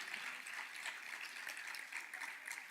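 An audience applauds at a youth business event's stage presentations, a soft, steady patter of many hands clapping at once, faint and distant, holding evenly without pause.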